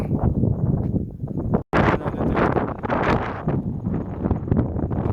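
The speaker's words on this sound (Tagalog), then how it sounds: "Lakas ng hangin." Strong wind on a mountaintop near a power transformer buffets the microphone in loud, rough gusts, with a brief dropout partway through before the roaring resumes.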